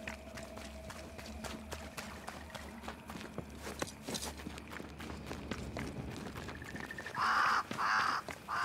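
A crow caws two or three times in quick succession near the end, loud and close, in the video game Banishers: Ghosts of New Eden, following quiet footsteps and ambient game sound.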